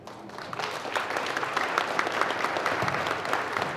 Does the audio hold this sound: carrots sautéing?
no